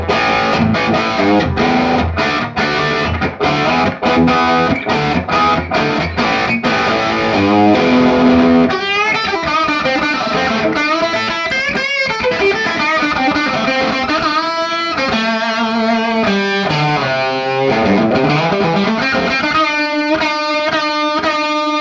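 Electric guitar played through a Marshall 1987x plexi amp tamed by a Rivera Rockcrusher attenuator, loud crunchy overdriven tone with chugging palm-muted rhythm giving way to ringing chords and lead phrases.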